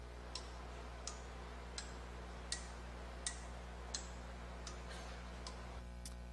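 Printed plastic tines on a tangible input component struck one after another, about ten sharp faint ticks spaced roughly evenly over steady low background hum.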